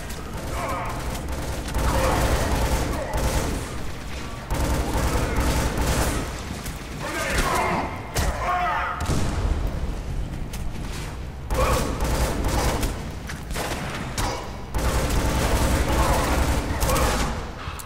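Shotgun fire in the Scourge Outbreak video game: repeated loud, booming blasts in bursts amid ongoing combat noise and gunfire, with voices talking intermittently.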